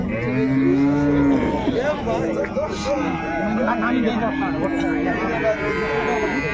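A Holstein calf moos twice in drawn-out calls while people talk nearby at a cattle market in Punganur.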